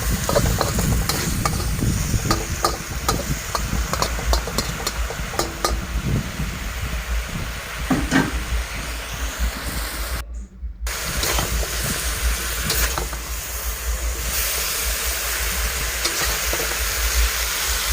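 Vegetables stir-fried with pork belly in a pan give a steady sizzle and frying hiss, with scraping and clattering stirring strokes throughout and a hum like a nearby fan or motor underneath.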